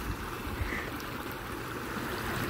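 Rainwater running like a stream through a garden pond, a steady, even rush of trickling flow that carries on unbroken throughout with no voices.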